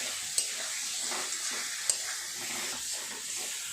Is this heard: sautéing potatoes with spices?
yes